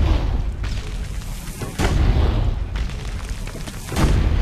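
Tank cannon firing in the game Assassin's Creed: Brotherhood, three heavy booming shots spaced about a second apart, each a loud deep blast with rumbling decay, over steady low rumble and no talk.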